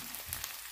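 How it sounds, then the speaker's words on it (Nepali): Onion fries in a pan while pork with green beans is cooked, giving a faint, brief sizzle with soft crackling pops in a short fragment. "अब चाहिँ म यसमा प्याज राखेर भुट्छु"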